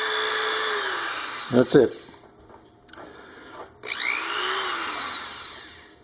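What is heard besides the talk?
Dremel rotary tool running at one speed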